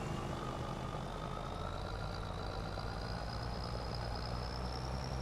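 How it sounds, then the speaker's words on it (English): A tractor engine labouring hard while pulling uphill in Farming Simulator 25, a steady heavy drone with a rising whine that climbs slowly in pitch as it strains, loud and constant with no talk. "Oh, this tractor doesn't even have enough oomph to pull this up the hill."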